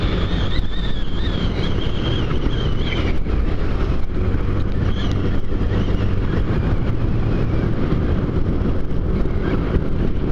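A motorcycle rides under a highway overpass on the Südosttangente heading into the city, with a loud constant engine drone, heavy wind buffeting and traffic roar that runs unbroken throughout.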